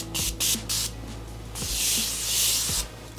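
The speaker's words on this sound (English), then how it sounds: "And with some setting spray by Morphe." Morphe makeup setting spray misted in several short hissing bursts, a quick pair of pumps followed by a longer spray, close and clear with faint clicks of the nozzle between them.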